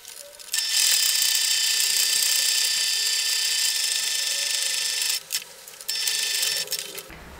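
Sewing machine running steadily while stitching a seam around the flap of a simple fabric wallet bag, a loud continuous whirring motor drone broken by two short pauses near the end.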